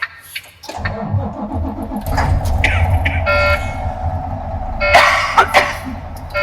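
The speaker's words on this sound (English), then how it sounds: "Safe to start the truck." A truck's engine cranks and catches, then settles into a rough, close idle, with a short sharp burst and clatter near the end during a pre-trip inspection.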